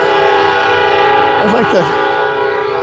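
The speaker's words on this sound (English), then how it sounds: "the train's going to come, so we'll try to hurry and get across the bridge" A train sounds its horn outdoors near a bridge, a long sustained blare with a wavering, shifting pitch partway through, loud and continuous, while a voice is also faintly present.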